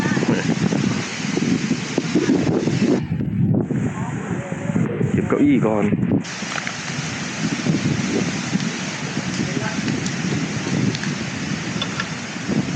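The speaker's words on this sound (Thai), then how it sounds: "ฟังเสียงลมเลย" Strong wind at a cold mountain campsite on Doi Samer Dao roars in constant heavy gusts buffeting the microphone, with a brief lull partway through while a person speaks before the rushing resumes.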